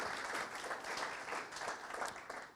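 A room of people applauding the venue and host at a Web3 Friday meetup, a continuous wash of clapping heard faintly and at a distance, steady to the end.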